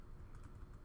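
Soft, quick keystrokes on a computer keyboard tapping in a short run, faint and close with no voices.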